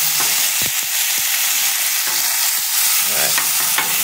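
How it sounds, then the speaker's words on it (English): Leftover stir fry sizzles loudly on a hot Blackstone outdoor griddle, a constant bright frying hiss with repeated spatula taps and scrapes close by. "Hear that extra sizzle"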